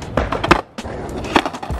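A skateboard popping off a ledge during a trick, several sharp wooden clacks and thwacks in quick succession with rolling wheel noise between, close and loud.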